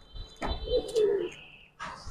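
Giribaz pigeons in a keeper's collection give a brief soft coo in the middle, with short chirpy bursts and light rustles before and after, faint and close by.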